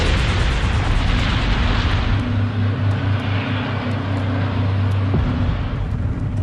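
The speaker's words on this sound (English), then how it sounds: "The air traffic controllers hear the explosions" Airplanes colliding in fog, as a documentary reconstruction, produce a loud, sustained roar of explosions and rumbling fire that holds heavy and continuous throughout.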